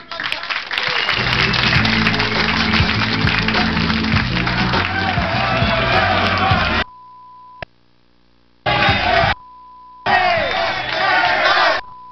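A TV talk-show studio audience applauds and cheers loudly for a guest named Lucas, a dense roar of clapping and shouts lasting several seconds, then breaking into shorter bursts with a steady tone in the gaps.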